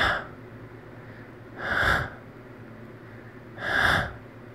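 A person imitates heavy breathing with their voice, producing two loud, drawn-out breaths about two seconds apart, close and breathy against a quiet room hum.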